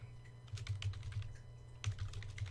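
Rapid keystrokes on a computer keyboard, clicking in quick bursts with a short pause partway through, close and fairly soft over a low steady hum.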